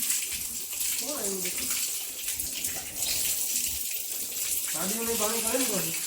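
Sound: water being filled

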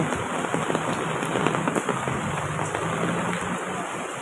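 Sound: heavy rain

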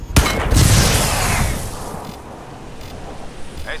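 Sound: explosion in the video game Crysis 2

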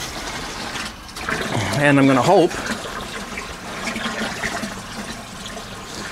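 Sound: cold water running from a hose for brewing cider

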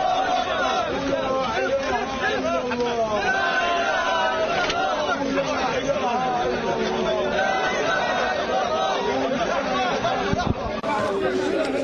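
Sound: crowd of young men chanting at a funeral

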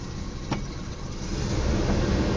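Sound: 1977 Oldsmobile Cutlass Supreme V6 engine idling after starting

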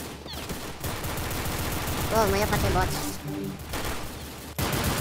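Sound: gunfire in video game Counter-Strike

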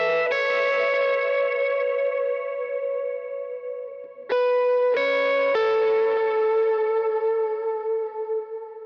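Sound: electric guitar lick with effects

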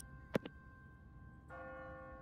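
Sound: automatic church bell ringing in The Walking Dead video game

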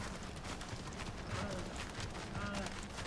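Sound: goats running in video game Far Cry Primal

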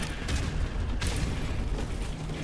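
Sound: grenade explosions in the video game Call of Duty: Modern Warfare Remastered

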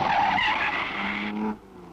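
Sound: Ferrari race car at 1953 Mille Miglia

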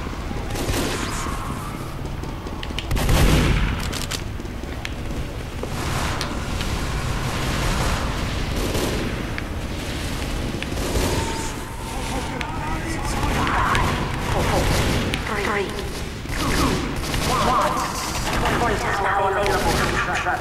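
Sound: gunfire in Team Fortress 2 video game

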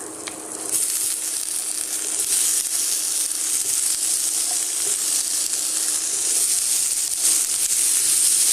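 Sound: chickpea masala sizzling and being stirred in pan

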